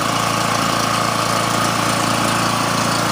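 A Generac GP3250 portable generator with a large exhaust muffler runs steadily at a constant idle, a continuous even engine drone with a faint tonal hum, close and loud with no talk over it.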